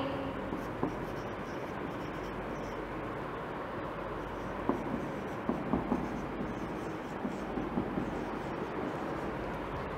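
A teacher writes on a board in a classroom, producing a faint, scratchy, intermittent scraping over a steady background hum of room noise, with a few slightly sharper strokes midway.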